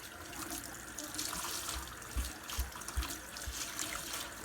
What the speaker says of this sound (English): just gonna run the hot water, get that coming on